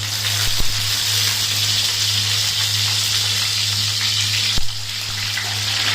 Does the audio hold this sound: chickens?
no